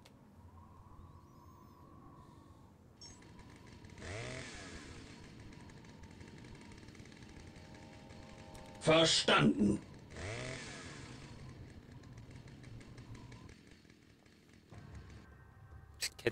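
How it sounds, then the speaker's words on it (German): Chainsaw noise from a unit in the Warhammer 40,000 strategy game Dawn of War, a loud bright burst around the middle of the clip set amid game sounds and brief spoken unit responses. "Das Kettensägengeräusch gefällt mir gar nicht."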